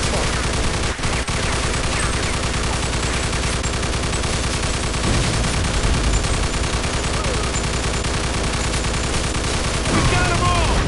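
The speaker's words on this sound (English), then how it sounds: "Stop shooting that fucking thing. I'm going deaf over here." Sustained machine gun fire in a PS4 video game firefight, loud and continuous for the whole stretch with dense rapid bursts and no pauses.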